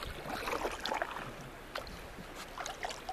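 A small boat moves through shallow water, with a soft, continuous wash and scattered splashes and knocks close by, steady and fairly quiet.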